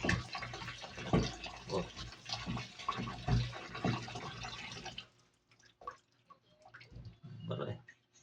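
Water sloshes and drips in a clogged sink, with splashing and gurgling that stop abruptly partway through, followed by sparse drips and small knocks, and a brief spoken exclamation.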